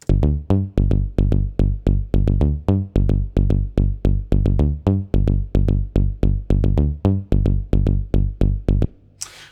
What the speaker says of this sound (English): This is a little bass line that I've programmed.